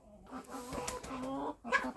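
Hens clucking in a farmyard, a steady run of soft, close clucks and brief calls from a couple of birds, with one sharper squawk near the end.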